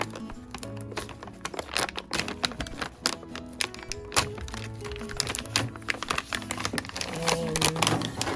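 A Starburst candy package is torn open up close: sharp crinkling plastic and papery crackles in irregular bursts, with tapping handling noises between.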